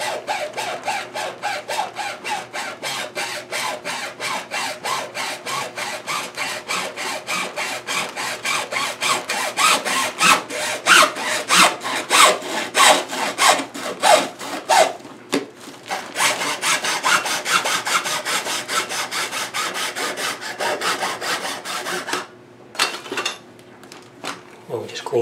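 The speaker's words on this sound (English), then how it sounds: "put the hacksaw on here, and you just go very slowly, and you can actually cut right through it" A hacksaw cuts through PVC plastic pipe in rapid, rhythmic back-and-forth strokes, close and fairly loud, with a brief pause near the middle and scattered stops toward the end.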